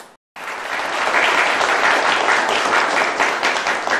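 Applause from a studio audience at a political debate talk show, a sudden burst of dense clapping after a short gap, sustained and loud for several seconds.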